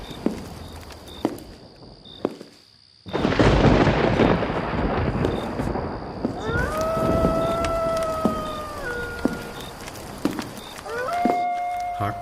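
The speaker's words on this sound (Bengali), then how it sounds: "নিশুতি রাত, প্রবল ঝড় বৃষ্টি, সাথে সাথে বিকট শব্দে বজ্রপাত হচ্ছে।" Cartoon night thunderstorm with heavy rain: sharp isolated cracks give way to a sudden loud thunder rumble and steady downpour, with tonal musical cues rising over the rain.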